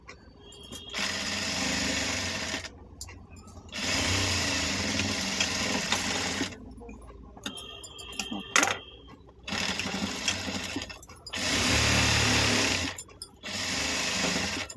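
A household sewing machine stitches fabric along a marked margin in several bursts of steady whirring, each run stopping abruptly before the next, close and fairly loud with no talk.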